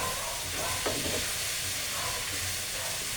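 Peanuts are stirred and fried in a pan on the stove, giving a steady close sizzle with soft scraping stirs throughout and no voices.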